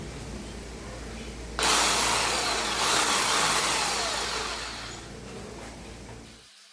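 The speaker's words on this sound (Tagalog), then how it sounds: "Babarinahan ko lang to, yung kabilaan, tapos mag-hand tap tayo." A drill bores a hole in the end of a Honda RZR handlebar: a loud, harsh whir starts abruptly, runs for about five seconds while slowly fading, then stops dead.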